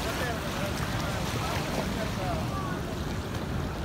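Rough Atlantic Ocean surf at Condado beach in San Juan, Puerto Rico, heard as a continuous broadband wash of crashing waves mixed with wind buffeting the microphone, steady and fairly faint throughout.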